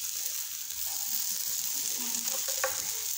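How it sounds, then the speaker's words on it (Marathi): Oil spooned onto a laccha paratha on a hot pan crackles in a continuous close sizzle, with a few sharper pops near the end and no talking. "चमच्याच्या सहाय्यानं तेल टाकून घेऊ"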